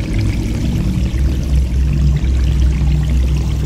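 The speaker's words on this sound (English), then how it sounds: "Because the water rises very fast" Water rises fast in a video game, heard as a loud, continuous rushing pour over a low, humming game background, with no talk.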